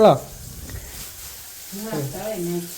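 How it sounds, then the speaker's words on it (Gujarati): Bhungla snacks deep frying in oil give off a soft, steady sizzle that runs under people talking near the start and end. "મમ્મી ભૂંગળાને એવું તળે છે"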